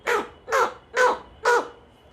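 A teacher vocally imitates a crow's caw, four loud, evenly spaced nasal calls close up, each about a quarter second long with short gaps between.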